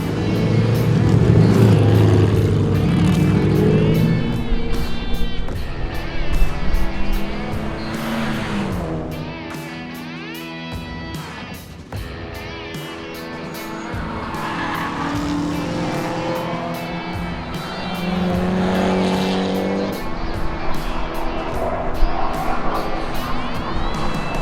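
A 400whp Mitsubishi Evo driving hard on a race track, its engine snarling loudly and continuously as it revs up and down through gears, close and sustained for the whole stretch.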